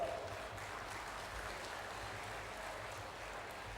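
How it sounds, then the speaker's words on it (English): A faint, distant convocation audience claps in a steady, even wash, heard from afar without voices. "Give a big applause."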